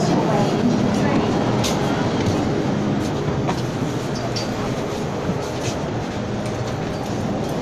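A Hong Kong MTR train runs with a steady, loud rumble and rolling rail noise throughout, with faint clicks and a few quiet voices in the background.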